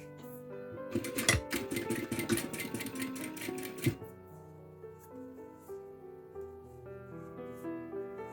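A sewing machine stitches piping made from bias tape with a cord inside, running in a fast mechanical rattle for about three seconds, close and clear, then stopping, leaving quieter tonal background sounds.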